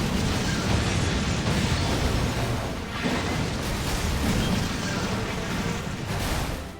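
Continuous heavy explosions and rumbling blasts from the Capcom game Resident Evil, a third-person shooter, with dense overlapping booms filling the whole stretch without pause.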